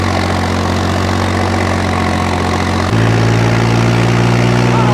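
A Massey 8055 tractor engine idles with a steady low rumble, then the pitch steps up as it revs harder under a performance test and keeps running loud and close.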